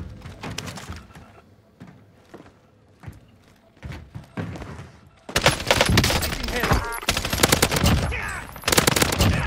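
Gunfire in the video game Warzone: sparse single shots at first, then dense, loud bursts of rapid automatic fire with sharp cracks filling the second half.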